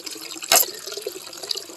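Water gushes steadily from a pipe on a hillside farm, opening with a brief loud splash before settling into a continuous close rushing flow with no talking.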